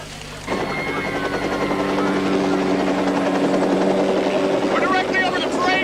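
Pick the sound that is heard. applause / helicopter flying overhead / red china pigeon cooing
helicopter flying overhead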